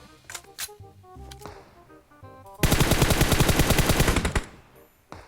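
Gunfire in the PUBG Mobile video game: a loud, rapid burst of automatic shots lasting about two seconds, following some scattered game sounds and followed by a single later shot.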